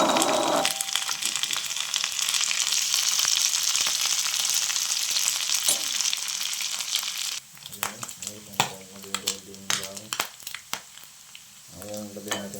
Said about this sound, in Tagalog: Sibuyas, bawang. Okay, sunod natin itong pork.